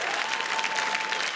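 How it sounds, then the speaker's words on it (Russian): Audience applause at a stand-up comedy roast, a brief, dense wash of clapping from a full room with no speech over it. "Аплодисменты Айку."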